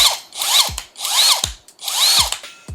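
Dagmara cordless drill fitted with a metal chuck whirs in three separate bursts, each spinning up, holding a steady high whine and winding down, close and fairly loud with no voices.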